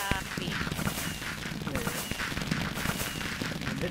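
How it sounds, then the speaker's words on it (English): Fireworks bursting in a video game during a New Year's livestream: a dense, continuous stream of crackling pops and booms that overlap steadily for the whole stretch. "That's just how fireworks look now."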